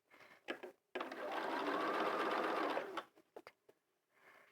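A sewing machine stitches a fabric hat in a continuous two-second run, framed by close clicks and handling taps before and after, with a soft rustle at the end.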